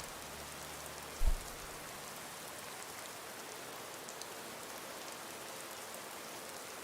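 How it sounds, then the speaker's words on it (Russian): Steady, dense rainfall in the video game Skyrim hisses without a break, with one low thump near the start and no voices. "Очень громкий дождь."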